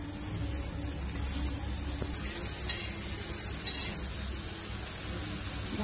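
Finely chopped onion fries in oil in a pan with a soft, steady sizzle, and the pan is stirred. The sizzle is faint and constant throughout, and no one speaks.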